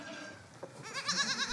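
On a Corsican farm, a goat lets out a wavering, quavering bleat close by, following a brief quieter stretch with faint background noise.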